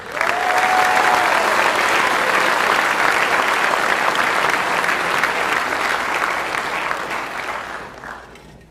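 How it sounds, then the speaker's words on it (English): An audience at a military awards ceremony for a CBRN warrior competition applauds loudly and continuously for several seconds. The applause then thins and fades toward the end. "Please join us in a round of applause to recognize the 2026 Best CBRN Warrior Competition competitors."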